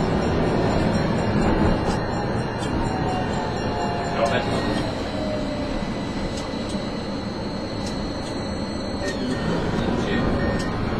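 A TEB tram on a test run between Albino and Bergamo rumbles steadily along the rails, loud and close, with faint wheel squeal and clicks over the track.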